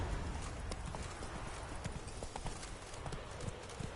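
Roach the horse galloping in The Witcher 3 game, with quick, rhythmic hoofbeats that continue steadily at moderate volume and no talking.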